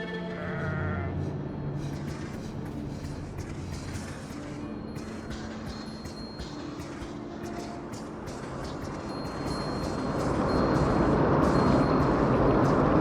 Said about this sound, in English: This wild sheep appears interested in nothing more than the grasses that grow upon this beach.